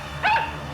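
A cartoon dog in a Motu Patlu animated episode gives a single short, sharp bark over a quiet background.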